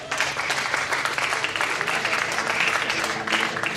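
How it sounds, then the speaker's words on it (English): Audience clapping at a video mixing seminar, a dense crowd round of applause with a few faint voices mixed in, steady and moderately loud. "Give me a round of applause."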